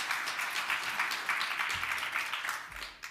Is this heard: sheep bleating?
no